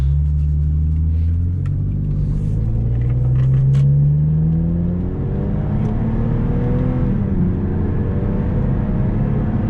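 A 2004 Lexus IS300 in manual mode, its engine pulling hard in second gear, a loud, close rising drone that climbs in pitch and then settles, with no talk.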